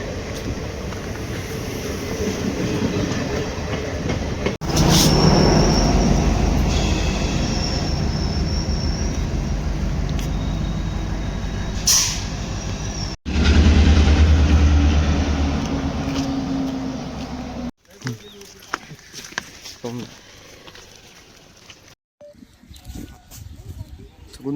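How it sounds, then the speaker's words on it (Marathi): A train pulls into a railway station with a loud, close, heavy rumble that swells and holds for several seconds, then cuts away to quieter scattered knocks and noise. "रेल्वे आली आमची."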